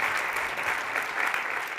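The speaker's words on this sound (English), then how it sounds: "a special round of applause for Hillary Rantisi and the Middle East Initiative" An audience at a student-organized event on Israel and Palestine breaks into steady, dense applause. The clapping holds at an even level with no voices over it.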